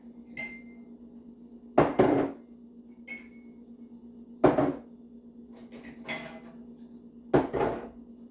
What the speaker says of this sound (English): I'm just setting these all up so I have billion trillion things in the washer.